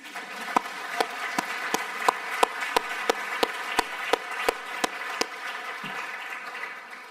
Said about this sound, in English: I think we can already clap for them now